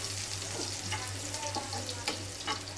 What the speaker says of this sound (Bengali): আর ডাল তেলে দিচ্ছি